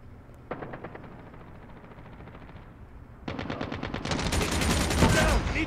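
Bursts of automatic gunfire in the video game Call of Duty Mobile, a few sparse early shots, then rapid sustained machine-gun fire that grows louder and denser toward the end.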